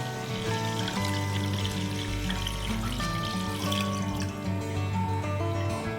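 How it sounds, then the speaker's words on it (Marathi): 600 ml of water pours steadily onto sugar in a pan to make syrup for gulab jamun, a continuous close splashing rush under a sustained background hum. "वरतून आपल्याला 600 ml पाणी टाकायचं आहे त्याच्यामध्ये"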